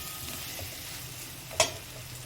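Egg curry frying in a home kitchen, a steady soft sizzle with one brief sharp pop near the end and no talking.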